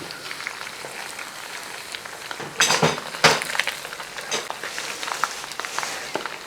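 Finely chopped coconut pieces fry in oil for a ginger curry, producing a soft, crackling sizzle that swells into a few louder bursts of spattering midway.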